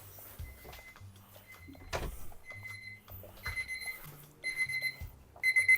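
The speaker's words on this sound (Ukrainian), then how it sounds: "Я забув виключити будильник" An electronic alarm clock beeps in repeated tonal bursts, growing louder toward the end, with some clunks and rustling in between.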